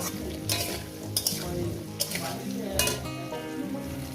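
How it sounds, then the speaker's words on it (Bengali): Spices with turmeric powder fry in a pan for a poppy seed vegetable curry, a dense close sizzle punctuated by four evenly spaced spatula scrapes and knocks against the metal. "এবার এটাকে আমি দু মিনিট ভেজে নেবো দাদার সময় দু তিন মিনিট ভেজে নেবো"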